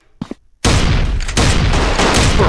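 Shotgun blasts in a mobile gun strike shooting game: two small pops, a short pause, then a loud, dense stretch of overlapping gunfire that carries on to the end.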